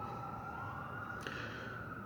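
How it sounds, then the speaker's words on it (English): Police car sirens wail through the night, a steady wavering tone held across the whole stretch at moderate distance over a dense background hum. "More police sirens. It's really popping off tonight."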